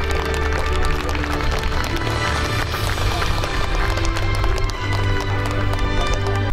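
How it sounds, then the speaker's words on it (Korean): Steady, dense clapping from a crowd at a gateball and ground golf tournament ceremony fills the whole stretch, loud and continuous without pauses. "뜨거운 박수 부탁드리겠습니다"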